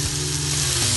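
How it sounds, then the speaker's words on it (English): Chopped bacon fries in a dry pan with no oil, a steady loud crackling sizzle filling the whole moment, close up with no talking. "So we're frying until the fat comes out of the bacon."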